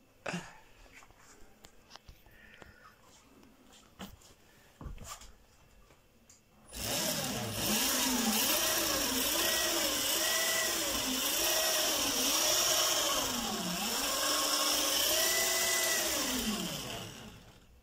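A 1000W lead-acid to lithium electric scooter motor whines steadily in first speed, starting abruptly after a few quiet knocks and holding a loud, wavering electric hum for about ten seconds, close to the listener.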